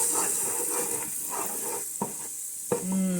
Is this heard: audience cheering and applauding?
no